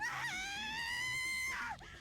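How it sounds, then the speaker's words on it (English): A long, loud scream in the Raging Loop video game holds a steady high pitch for over a second, then breaks off into quieter background tones. "Oh no! Another scream. It was close."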